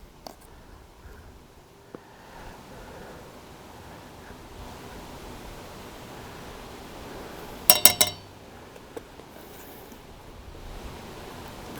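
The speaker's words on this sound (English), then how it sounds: "I'm going to go ahead and wipe this off on the edge real quick" A metal spoon is scraped and tapped on a container's edge to knock off black pepper, a brief cluster of bright clinks midway through an otherwise quiet stretch.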